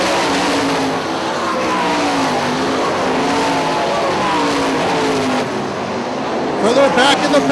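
Sprint cars race at Hartford Speedway, engines roaring loud and close with rising and falling revs as the pack passes, while an announcer talks over the din.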